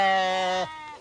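A goat bleats loud and close in one sustained, strongly voiced call that breaks off sharply, leaving faint background sound.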